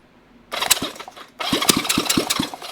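A vintage Honda CB350 motorcycle engine cranks on the electric starter and catches, sputtering briefly, then fires again with a few sharp popping beats as it tries to run.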